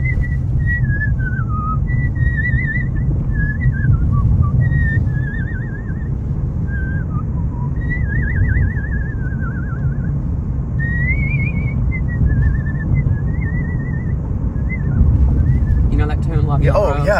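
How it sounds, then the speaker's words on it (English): A person whistles a wavering, melodic tune in short phrases with trills and slides, loud and close over a steady low rumble like wind or engine noise, ending with a brief rustle. "Could you do a little whistling?"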